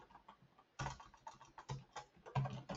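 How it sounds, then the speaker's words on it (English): Computer keyboard typing in a quiet room, with irregular bursts of clicking keystrokes entering text into an Outlook email signature, close and fairly clear, no talking. "I'm going to type in"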